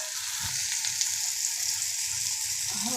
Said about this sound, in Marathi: ह्याच्यामध्ये हे मी लाल तिखट घालून घेते 1 चमचा